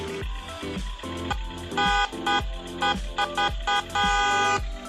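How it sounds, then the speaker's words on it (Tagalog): A toy RC 4x4 truck horn honks in a series of short beeps and one longer blast, close up, over a steady rumbling engine-like drone. "May tunog ng may tunog ng truck ng sasakyan. Tapos may busina pa to."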